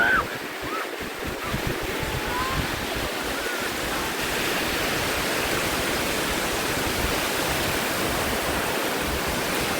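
Onshore wind and sea waves at a beach, a loud, continuous roar of surf mixed with wind buffeting the microphone, unbroken throughout.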